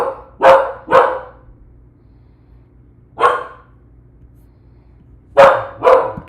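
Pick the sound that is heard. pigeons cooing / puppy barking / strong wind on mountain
puppy barking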